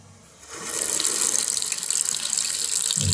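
Tap water gushing steadily onto a Lupilu Soft & Dry size 4 disposable nappy, a loud continuous splashing hiss that starts after a quiet moment and runs to the end.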